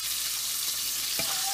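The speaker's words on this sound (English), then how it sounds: "the loud sizzling sound in the background. That's just my fried chicken that I'm cooking up" Fried chicken sizzles loudly in a hot pan, a steady close hiss of frying oil throughout, with a brief clatter near the end.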